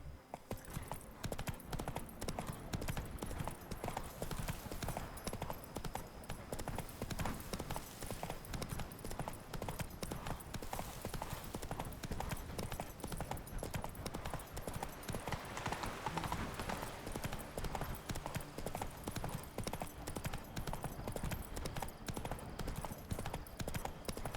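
Steady clip-clop of a horse's hooves from The Witcher 3, a continuous rhythmic trot running throughout under game ambience, with a brief whinny possible.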